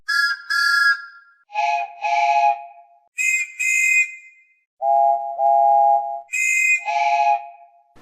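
A run of distinct steam engine whistles for Thomas the Tank Engine characters, each a short pair of clear toots, high and low pitches alternating across the sequence, loud and close with no talking.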